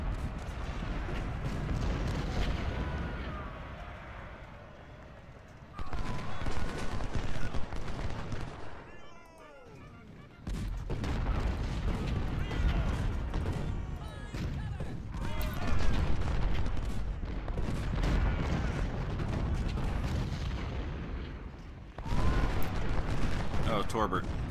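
Artillery fire in Ultimate General: Civil War during the Hardin Pike battle, repeated booming cannon shots in dense bursts over a constant rumble of battle, broken by short quieter gaps, with someone talking over it.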